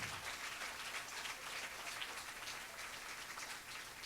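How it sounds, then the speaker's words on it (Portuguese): Church congregation applauding, a dense, faint, continuous wash of clapping heard from a distance with no clear individual claps. "Pode aplaudir ao Senhor, irmão."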